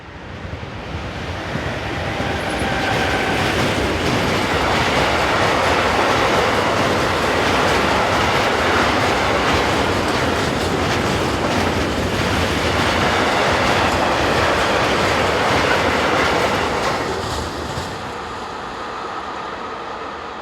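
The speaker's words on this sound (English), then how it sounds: "was 4 minutes behind the previous freight as it heads south with loaded tanks" A freight train hauling loaded tank wagons rolls past on a busy German mainline between Fulda and Bad Hersfeld, a loud sustained roar of wheels and wagons swelling in and fading out over about twenty seconds, with no voices.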